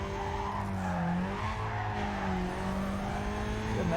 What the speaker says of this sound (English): Good nitro sound too, which is nice.